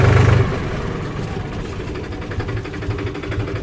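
A Farmtrac 45 tractor's diesel engine runs steadily in fourth gear, a close, low, even drone. A brief louder burst comes at the very start, then the engine settles into a constant rumble with no talking.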